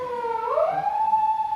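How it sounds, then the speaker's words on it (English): A police car siren passes outdoors, with one wailing tone rising and then holding steady, fairly loud and not masked by other sounds. "So now we got a police car going past."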